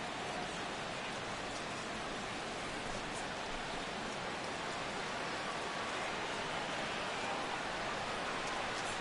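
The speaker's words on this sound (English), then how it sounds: "The rain, as we've mentioned, coming down fairly steadily here at game time." Steady rain falling at game time during a Cubs vs. Pirates baseball game, an even, continuous hiss of rainfall with no voices.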